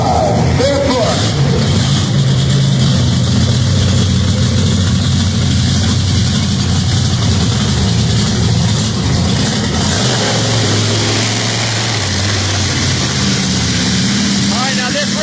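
Monster truck Barefoot's engine rumbles low and steady at a race event in Penrose, Colorado, a loud continuous drone with crowd and announcer talk running over it throughout.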